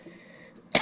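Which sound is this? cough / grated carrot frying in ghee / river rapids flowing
cough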